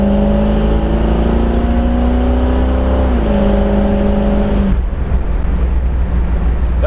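The V8 of a 1969 Camaro SS pace car drones loud and close in a steady, torquey pull up a small hill. The engine note climbs, dips briefly, then drops away as the throttle eases. No voices.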